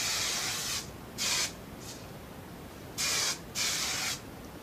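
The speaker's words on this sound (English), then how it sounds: "take whatever spray I'm using, hairspray, spray wax, and just gently spray it" Three short hissing bursts of hairspray or spray wax from an aerosol can, about a second apart, close to the listener, with quiet pauses between them.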